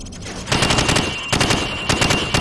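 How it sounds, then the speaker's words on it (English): Rapid rifle fire from the hip in Call of Duty 4: Modern Warfare, loud close automatic bursts in three quick strings with short pauses between. "Now, shoot at the targets while firing from the hip."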